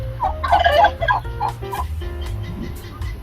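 Fowl on a street in Türkiye, clucking and gobbling calls repeated close by over steady outdoor background noise.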